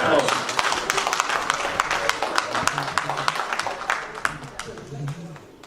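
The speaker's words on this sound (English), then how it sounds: "please a round of applause for Osun and Yoruba Day that we are celebrating today" An audience at an Osun and Yoruba Day celebration in Ireland claps, a steady patter of many hands, moderately loud, heard beneath a voice speaking over it.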